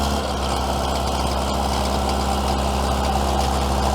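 A Caterpillar loader's diesel engine idling in cold weather after sitting dead for over a year, a loud, steady low rumble with a constant hum and no breaks.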